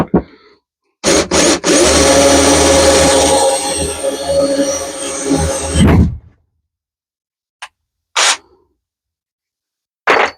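An old cordless power drill, around eight to ten years old, whirs steadily for several seconds while boring into wood, then stops, followed by a few short, sharp bursts close by in an otherwise quiet room.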